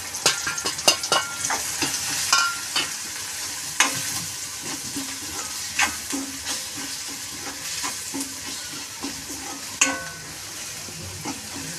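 Spices and tomato sizzle in a pan with surti papdi beans, a steady frying hiss broken by repeated scrapes and clinks of a spoon stirring the mix.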